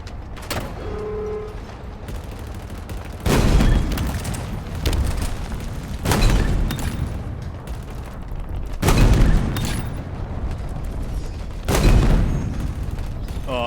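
Heavy booms from tank combat in the video game Halo Infinite strike roughly every two to three seconds, each a loud broadband blast layered over continuous gunfire and battle rumble, with no talking.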